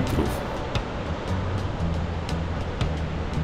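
Ocean surf rolls onto Las Canteras beach in Gran Canaria, a continuous wash of breaking waves with soft rumble, heard moderately near and alone.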